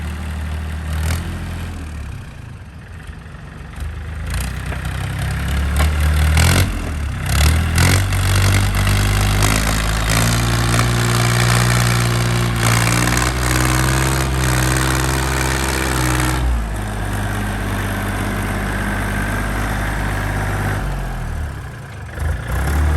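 A used 2012 Yanmar 39-horsepower tractor idles close by, a loud, steady low diesel rumble with a regular throb and occasional rattles, running alone without talk.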